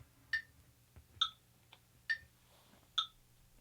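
A metronome set to click every other beat ticks four times at an even, moderate pace, alternating between two slightly different click tones, close and fairly quiet over faint background.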